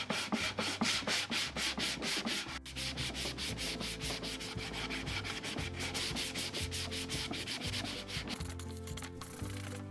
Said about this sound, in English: I'm just using 220 sandpaper on a block.